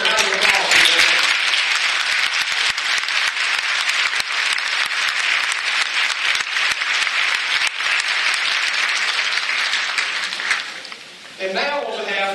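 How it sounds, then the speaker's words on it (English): A graduation ceremony audience breaks into long, loud, continuous applause that fills the hall for about ten seconds before fading, after which a voice begins speaking. "Would you join me in a round of applause?"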